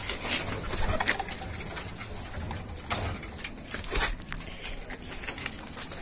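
Large pet pigeon lifted from its cage, giving soft cooing calls close by, with rustling, fluttering and handling noises scattered through the moment.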